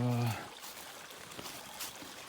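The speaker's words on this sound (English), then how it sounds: "Looks like it's a pretty steady stream." A small creek crosses a hiking trail on the Ouachita National Recreation Trail, its steady rushing flow heard nearby after a brief voice at the start.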